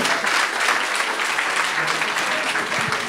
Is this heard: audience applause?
yes